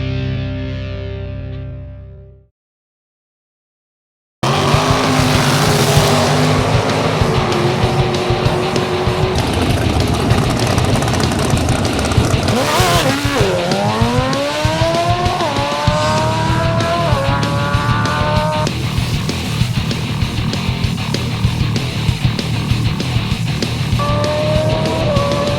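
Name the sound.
drag racing cars at Lucas Oil Raceway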